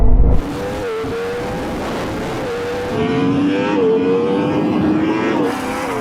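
A Ferrari SF90 and a Porsche Taycan Turbo GT drag racing, with a Yamaha R1M superbike also in the race: a sustained engine roar with rising whining tones as the cars accelerate, building louder in the second half.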